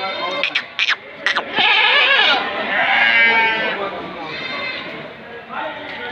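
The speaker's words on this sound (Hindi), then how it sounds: "ये भी बकरा देखो" Goats bleat loudly and close at a livestock market, drawn-out wavering cries following a few short sharp knocks, with crowd noise behind.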